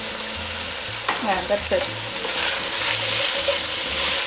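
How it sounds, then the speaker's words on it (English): Slices of sweet Italian sausage frying in a pot, a steady close sizzle running throughout with a few stirring clatters, under a brief spoken remark. "I'm going to chop them up, cut them in little slices, and add them to my pot."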